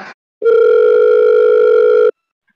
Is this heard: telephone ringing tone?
yes